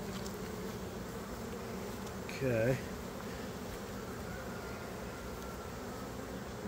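Honey bees swarm around a hive box, their dense, steady buzzing filling the air close by, while one person speaks briefly midway.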